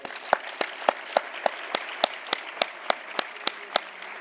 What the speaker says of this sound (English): Please join me in a round of applause to thank One America and Jose